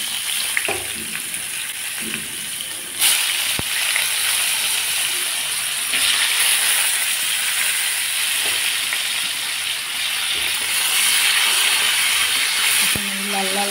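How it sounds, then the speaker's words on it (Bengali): Potatoes frying in a pan with cumin and bay leaf spices, a constant close sizzle and hiss with occasional stirring clatter, steady throughout. "এখন আমি লাল লাল করে আলুগুলো ভেজে নেব।"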